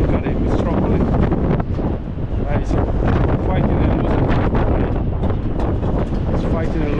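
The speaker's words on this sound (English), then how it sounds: "Very, very windy." Strong gusting wind roars across the microphone on Blackpool promenade, loud and continuous with buffeting rumbles throughout.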